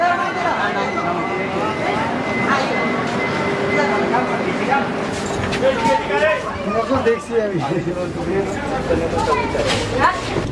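A Vande Bharat express pulling out of a station: steady low rumble and rising mechanical whine, with crowd chatter and people talking nearby throughout.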